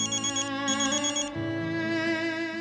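A telephone rings during an indoor scene in a Hindi TV sitcom, giving a steady, bright electronic ringtone that holds clearly on its own for a couple of seconds with no talk over it.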